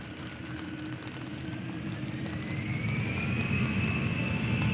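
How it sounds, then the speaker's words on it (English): An easyJet airliner departing Manchester Airport for Tenerife South produces a rising distant jet roar with a climbing engine whine, growing gradually louder across the clip. "EasyJet departing now to Tenerife South."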